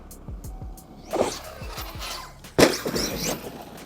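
An Arrma Outcast 8S EXB fifth-scale RC truck on Proline Badlands MX57 tires whines past, then hits something twice with loud, sharp crashing impacts about a second and a half apart, motor buzz and clattering in between.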